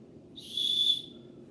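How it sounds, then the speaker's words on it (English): One short, shrill blast from a small whistle on a survival shovel's fire striker sounds once and clearly, lasting about half a second against a quiet background. "On the end of that striker, you can take that piece off of it and you get yourself a little whistle"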